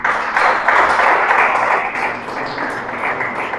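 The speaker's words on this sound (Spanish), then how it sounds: "Dele un aplauso a Cristo." A church congregation applauding together, a steady dense wash of many hands clapping at moderate loudness throughout, with no pauses.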